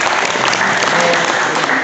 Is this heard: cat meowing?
no